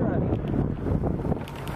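Motorboat driving home on the water after repairs: continuous engine and wind rush with broadband noise, loud and close, buffeting the microphone throughout.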